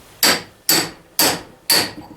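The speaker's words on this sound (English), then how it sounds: "Oh, that was the wrong hammer." A hammer strikes a car driveshaft four times at an even pace, each blow a sharp, loud metallic crack that rings out briefly, with no talking.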